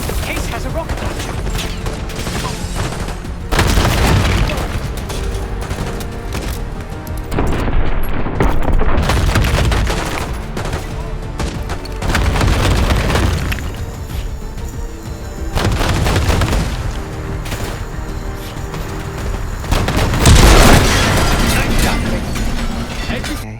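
Rocket launcher blasts and gunfire in the Black Ops 6 video game: repeated heavy booming explosions come in loud bursts every few seconds, with clattering mechanical noise and rattling shots between them.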